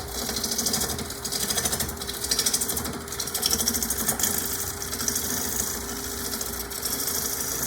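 A wood lathe spins a bowl blank while a gouge cuts with its bevel rubbing the wood, giving a steady close motor hum under a continuous rough, scraping hiss with slight rhythmic pulsing.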